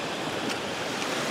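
Baltic Sea waves breaking and washing steadily close by, a continuous broadband rush of surf mixed with wind buffeting the microphone, with no voices.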